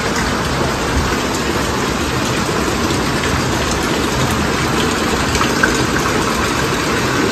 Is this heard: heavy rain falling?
yes